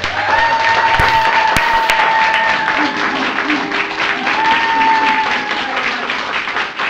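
Steady, sustained applause from an improv comedy show audience, dense clapping filling the whole stretch at a constant loud level, with faint tones ringing underneath.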